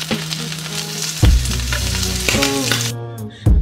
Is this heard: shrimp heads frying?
yes